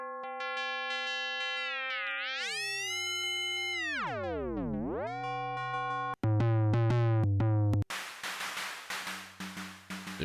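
Gliding electronic synth tones from a Eurorack modular setup with a Vermona Melodicer sweep up and down, then give way to a run of sharp, hissing, white-noise snare hits that decay quickly.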